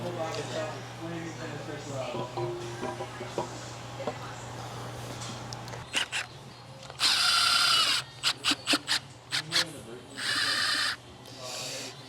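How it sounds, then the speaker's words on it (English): Power tool torquing bolts down to 45 foot-pounds in a diesel repair shop, several short sharp bursts and a couple of longer whirring runs following a stretch of people talking over a low steady hum. "Torquing these things down to 45 foot-pounds."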